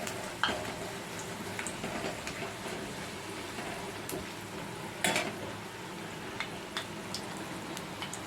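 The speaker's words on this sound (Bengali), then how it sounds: "এগুলোকে এবার আস্তে আস্তে ভেজে নেব।" Hing kachori frying in hot oil in a pan, a steady dense sizzle with a few sharper pops and clinks of a utensil, no voices.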